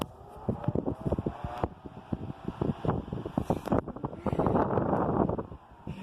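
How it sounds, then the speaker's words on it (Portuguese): Strong wind buffeting the microphone outdoors in loud, irregular gusts and thumps, swelling into a sustained roar near the end. "Está ventando demais, demais."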